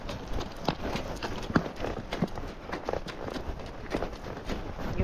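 Horse hooves clip-clop at a walk on a dirt trail during a canyon ride, a steady irregular patter of close, moderately loud footfalls with faint rustling around them.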